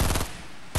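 Rapid automatic gunfire in the Fortnite video game, a loud, dense burst at the start that drops to a muffled lull before another sharp burst at the end, all within under a second and with no talk.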